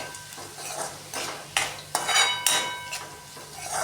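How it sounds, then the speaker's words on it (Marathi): Poha with coriander powder being stirred in a pan, quiet sizzling broken by several distinct scraping and clinking strokes of a spoon against metal, irregular and close, with no talking. "आता मी थोडंसं आपली ही धण्याची पावडर ती पण टाकून घेणार आहे आणि चांगलं मिक्स करून घेणार आहे."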